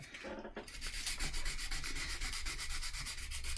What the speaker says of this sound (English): So let's see if I sand.